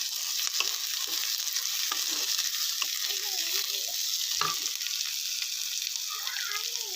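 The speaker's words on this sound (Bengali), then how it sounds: "এবার আমি কুচিয়ে রাখা পেঁয়াজ আর রসুনটা একটু ভেজে নেব।" Chopped onion and garlic fry in hot mustard oil, a steady close sizzle with light crackle running throughout, broken by occasional soft scrapes of stirring, no talking.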